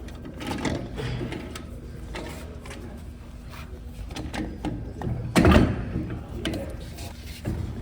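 A tire balancing machine spins a mounted wheel with a mechanical whir and rattling hum, swelling to a louder clunk midway, with some background talk.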